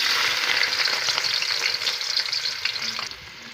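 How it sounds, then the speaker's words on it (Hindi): Chopped onions sizzle in hot ghee in a wok, a steady bright frying hiss with occasional stirring scrapes, close and continuous with no talk. "अब हम इसमें कटी हुई प्याज डालेंगे"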